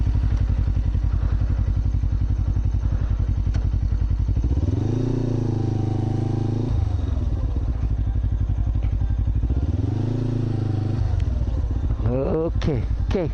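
A motorcycle engine idles, then rises in two sustained, smooth revs as the clutch is eased through the friction zone, with a rough burst of revving near the end. It is loud and close with a steady mechanical rumble underneath.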